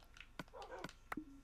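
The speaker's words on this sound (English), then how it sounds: "I have a dog now." A dog in Minecraft gives a few short, quiet yips and whimpers in quick succession, faint and close.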